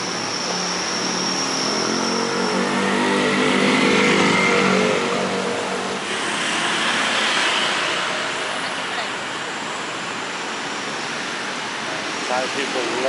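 Busy street traffic in Bangkok, Thailand, with a steady roar of passing cars and engines revving nearby, swelling and easing over the span and continuing without a break.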